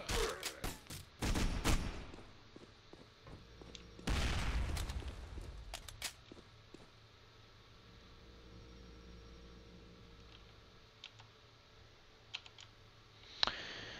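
Gunfire in the District 187: Sin Streets video game: several loud close bursts of shots in the first seconds, then quieter ambience with scattered clicks and a final sharp shot.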